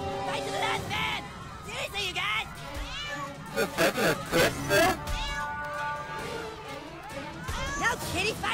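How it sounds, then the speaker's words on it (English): Cartoon cat meows and caterwauls repeatedly in the South Park: The Stick of Truth video game, loud and close amid battle effects, with overlapping game voices. "No, kitty, fight back! That's a bad kitty!"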